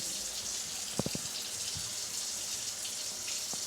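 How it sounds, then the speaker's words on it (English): Water runs steadily, as if from a tap, into a pot while rice is being prepared for cooking, with a few faint clunks near the start. "Kind of pour the water in there."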